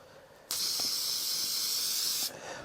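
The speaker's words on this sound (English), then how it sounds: "You guys can see I'm just spraying this down." A spray bottle sprays down stretchy fabric, a steady hiss running for almost two seconds, close and fairly loud, then cutting off abruptly.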